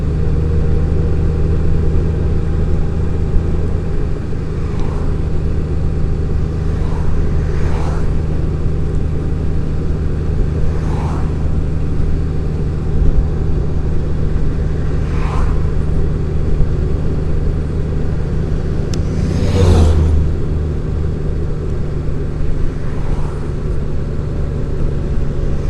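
A 2018 Honda Goldwing DCT leans through a series of curves with a constant, loud engine drone and heavy wind rumble, plus occasional brief whooshes and knocks, including a louder burst near the end.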